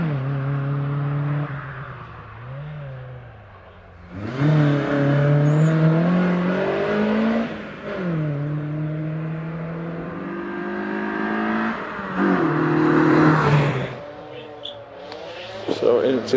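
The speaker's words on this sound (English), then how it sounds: "into the S's goes Richard in that MG as Keith Misen gets away in the Mazda" An MG ZR 160 and a Mazda MX-5 accelerate hard at the Prescott hillclimb, engines climbing in pitch through repeated gear changes, loud and close, with a voice talking over them.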